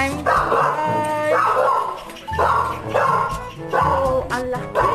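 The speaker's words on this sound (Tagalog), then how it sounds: "may aso!" A large dog barks repeatedly at close range outside a mansion, with about five loud, evenly spaced barks and some yips and whines between them.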